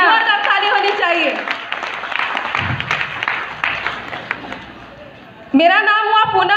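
An audience at a DXN gathering in Bihar claps and cheers for several seconds. The clapping is moderately loud and crowded, and a voice is heard talking over it at the start and again at the end.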